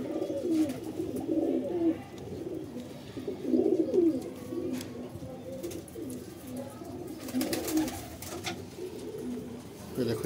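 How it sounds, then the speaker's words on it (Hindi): Pigeons coo steadily in soft, overlapping low calls, close by, with a faint murmur of a voice in the background. "सारे कबूतर हमारे ये बैठे हुए हैं यहाँ पर"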